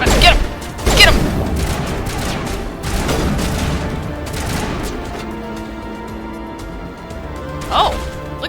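Gunfire and explosive impacts in a video game battle against Saren, loud bursts and crashes at the start, around the one-second mark and near three seconds, then a steadier rumbling din, with people shouting over the action.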